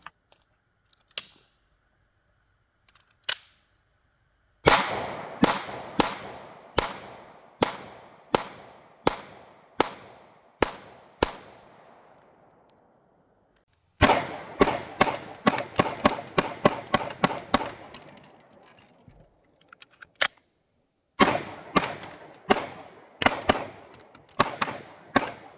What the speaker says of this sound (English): It's a mid-size pistol, fires like a full-size, very little snap, very little recoil